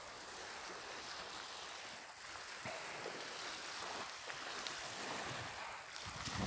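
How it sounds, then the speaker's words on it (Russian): Waves wash steadily against the shore of Lake Issyk-Kul on a morning below cloud-capped mountains, a continuous broad rushing surf with a light breeze, fairly distant and even, with no voices. "Шум волн успокаивает."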